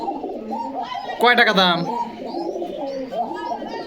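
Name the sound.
Bakari pigeons cooing at a pigeon market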